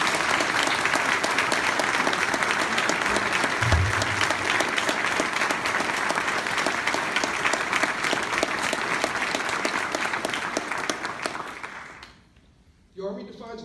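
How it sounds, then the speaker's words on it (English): Dense, steady applause from a large audience at an Army cadet commissioning ceremony, sustained for about twelve seconds before quickly fading to near silence. "Ladies and gentlemen, please join me in a round of applause for these cadets,"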